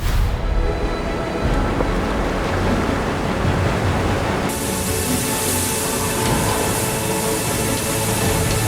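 Ocean waves and strong wind from Vendée Globe sailing race footage: a loud, continuous rushing roar of sea spray and surf against a racing yacht, steady and close throughout.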